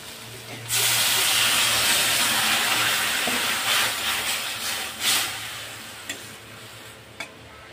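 Water poured into a pan of sizzling okra curry sets off a sudden loud hiss and bubbling steam that slowly settles, with stirring scrapes and a couple of sharp knocks toward the end.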